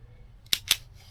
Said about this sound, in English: Then we're just gonna use the wire strippers.